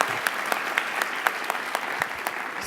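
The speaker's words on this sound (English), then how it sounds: "could you just give a round of applause for them since they're not here?" Scattered clapping from an audience at an online journalism awards ceremony, a thin round of applause where individual claps stand out in a loose, uneven rhythm.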